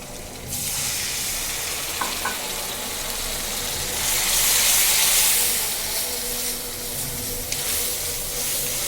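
Spices and ginger paste fry in a hot pan with a loud, steady sizzle that swells into a stronger hissing burst midway, close and continuous, with a couple of brief clinks.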